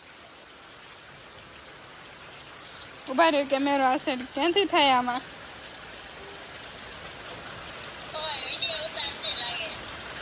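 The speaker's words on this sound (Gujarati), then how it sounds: "આ સાઈડ થી વરસાદ ગજબનો પાણી ભરાઈ ગયો" Heavy rain pours steadily during a storm with strong winds, a continuous broad wash of falling water throughout, while a person talks over it in two short bursts.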